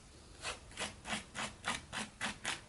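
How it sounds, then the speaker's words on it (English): Excess material scraped off a brass Mandalorian armor piece: seven or eight steady, evenly spaced rasping strokes, close and fairly quiet, with no voices. "scraping a little bit of the extra off will ensure that everything stays nice and in place"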